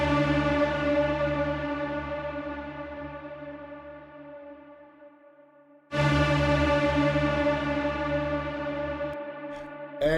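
Two heavy trailer sting hits for an epic hybrid trailer track, each a dense harmonic boom with effects and reverb that slowly decays, the second striking loud after a near-silent gap.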